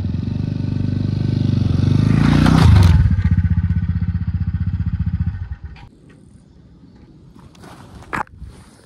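Motorcycle engine running close by, a loud throbbing rumble that builds to a peak, then settles into a rapid idle putter before cutting off, leaving quiet with a few clattering knocks.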